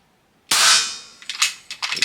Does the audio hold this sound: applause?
no